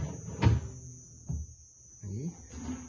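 Newly assembled bathroom cabinet doors and large drawers open and close in a few separate wooden thumps and slides with quiet gaps between them.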